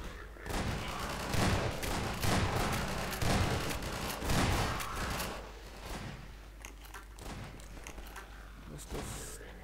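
Gunfire in Half-Life 2 Episode One, with repeated heavy volleys and scattered shots near and mid-distance, loudest early and thinning out later, under some talking.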